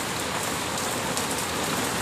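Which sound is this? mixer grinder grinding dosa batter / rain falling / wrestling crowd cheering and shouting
rain falling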